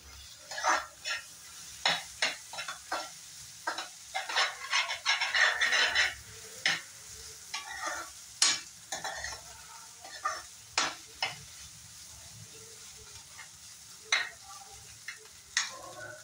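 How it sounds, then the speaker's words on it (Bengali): Egg and onion fry in a pan for a brinjal and egg bhurji-style dish, a light sizzle running underneath as a utensil scrapes and stirs in repeated sharp strokes, close up and with no voices. "ডিম আর পেঁয়াজটা কিন্তু খুব সুন্দরভাবে একদম শুকনো করে ফ্রাই করে নেবে"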